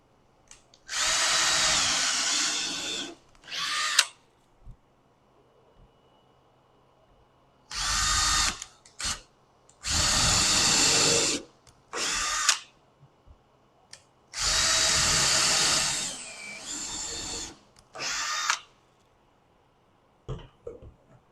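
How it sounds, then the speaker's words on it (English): A power drill bores into a wooden picket fence in about six loud, close bursts of whining, grinding drilling, separated by quiet pauses, with a few small knocks and no talk. "Must have drilled into a knot there."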